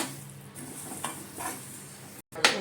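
Whole cloves, star anise and a cinnamon stick with coriander seeds dry roasting in a pan for garam masala, a soft scraping stir with faint crackle and a brief clink near the end, close by with no talk.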